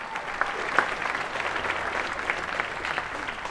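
An audience applauds at the New York Innovative Theatre Awards ceremony, a steady, dense wash of clapping from many hands that holds evenly throughout, with a few sharper claps and faint cheers poking out.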